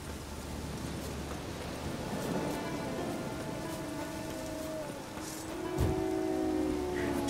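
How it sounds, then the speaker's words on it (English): Steady rain in the video game The Witcher 3: Wild Hunt patters on surfaces at a soft, even level, with a faint low rumble and a few tonal tones drifting through. "Oh, raining again."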